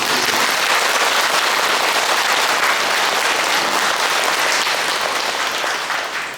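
Loud, dense applause from a temple congregation at Sudeoksa after a specially invited Buddhist Dharma talk by the Venerable Seoljeong, sustained as a full roar of clapping before tapering off at the very end.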